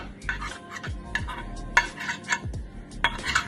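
Semolina (sooji) balls set one at a time into a metal idli steamer pot, giving a series of close, light metallic clinks and taps with soft scraping between them.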